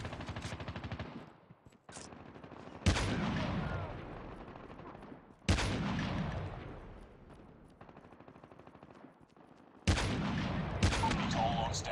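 Gunfire in the mobile shooter Call of Duty Mobile, with several loud sudden bursts of shots and booming reports separated by brief quieter pauses, close by and without talk.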